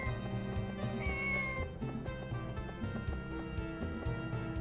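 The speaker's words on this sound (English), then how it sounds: "We hear the cats." Cats meow in Harvest Moon 64, a 1999 Nintendo 64 farming game, with repeated short cries over light looping game music. The sound is faint and carries no talk.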